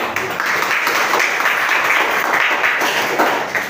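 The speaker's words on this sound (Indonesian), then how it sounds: "Tepuk tangan" Classroom students clapping hands together, a loud, continuous patter of many claps filling the room for nearly four seconds with no speech.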